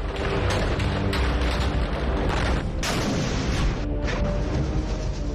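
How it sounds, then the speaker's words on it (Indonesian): Heavy explosions from strikes on Gaza boom one after another, loud and rumbling, with sharp bursts and crackling debris filling the air without pause. "Sejumlah ledakan terlihat di Gaza, Palestina pada 10 November"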